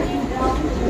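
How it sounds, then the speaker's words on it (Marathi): A Konkan Railway train arrives at a station at night, a steady low rumble of wagons filling the moment without letup. "तर आपली ट्रेन आलेली आहे."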